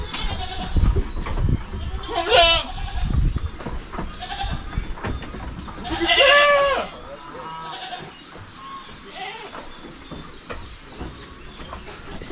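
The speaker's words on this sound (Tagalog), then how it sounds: "Yung kambing natin." Goats bleat on a small farm beside a hut shelter, several wavering calls rising out of steady outdoor background noise, with one loud, close bleat standing out; other farm animals may be present.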